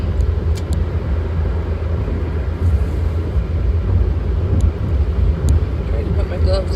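A car on a morning commute to work, a steady low cabin rumble of engine and road noise that holds even and continuous throughout, with no voices over it.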